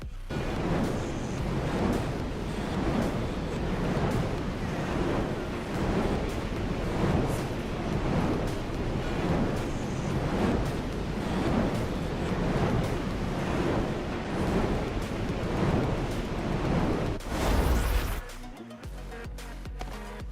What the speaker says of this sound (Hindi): अब काफी देर सोच विचार करने के बाद मैं यहाँ पर बनाता हूँ पानी का बवंडर